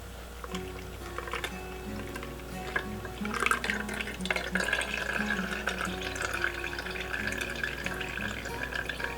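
Lemon turmeric drink is poured through a strainer into a container, making a steady close trickle and splash of liquid that grows fuller midway and runs on continuously.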